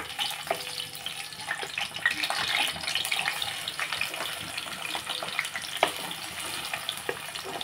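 Chopped onions with green chillies sizzling in a hot pan on a home stove for a curry, a steady close hiss and crackle with occasional spatula scrapes, no talking over it.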